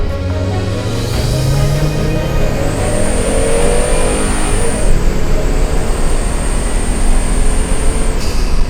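A Volvo V70 R turbocharged five-cylinder engine revs hard with a loud, steady roar and a high-pitched turbo whistle rising above it. There is no talking.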